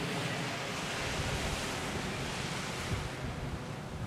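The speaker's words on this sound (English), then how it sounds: "the waves are definitely higher than normal" Ocean waves break steadily on a beach in Aruba, a dense continuous surf roar with some wind noise, loud and close, with no voices.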